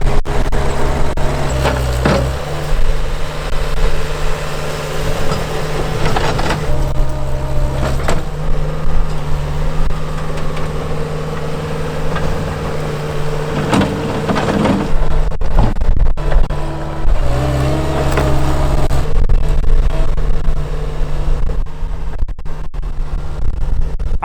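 A construction machine with a digging blade is driven on a test drive with a steady, loud diesel engine drone. The engine rises and falls with throttle changes, and clanks and rattles can be heard over it.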